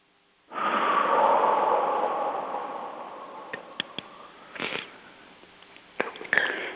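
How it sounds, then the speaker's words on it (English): A long, deep exhale blown out steadily for several seconds after a breath in, close and breathy, trailing off into a few soft sniffs and small clicks. "take a deep breath in"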